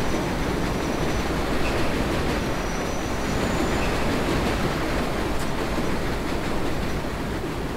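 A subway train in the World of Subways 4 simulator rumbles steadily along the track, a dense continuous roar of wheels and motor with faint squeal, no talk.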